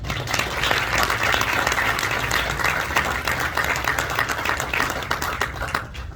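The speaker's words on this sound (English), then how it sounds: "Let's give Sergeant Major Todd Garner and Miss Nina a round of applause" Attendees at a military assumption of responsibility ceremony applaud Sergeant Major Todd Garner and Miss Nina, a full, sustained round of clapping from a large crowd with a low hum beneath.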